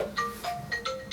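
A phone rings during a grooming session on a matted Schnauzer, five short repeating electronic tone bursts at moderate volume, each a bright warbling chirp, with no talking over them.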